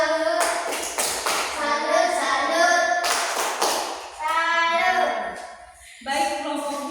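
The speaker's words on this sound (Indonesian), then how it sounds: "Tepuk salut untuk Kevin." A classroom of children clap a rhythmic salute together, bursts of sharp synchronized claps mixed with loud chanting voices, close and lively, with brief pauses between phrases.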